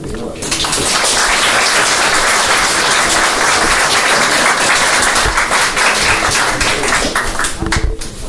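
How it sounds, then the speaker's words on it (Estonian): An audience at a jubilee concert gives loud, dense applause that holds steady for several seconds, close and continuous, with brief voices near the end. "Nendele kahele tublile härrasmehele ma tahaks kõigepealt teha ühe sügava aplausi"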